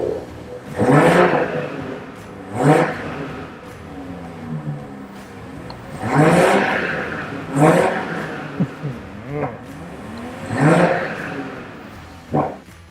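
A BMW M Performance car with a six-cylinder 3.0-litre engine, set in Sport Plus mode for a launch start, revs in several sharp, loud bursts that rise and fall, separated by quieter idling gaps.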